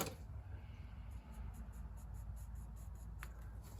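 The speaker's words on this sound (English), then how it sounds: "I'm just going to trace the edge of my tape" A pencil traces along the edge of tape on a wooden spoon blank, a faint, close, continuous scratchy rasp with small rhythmic strokes.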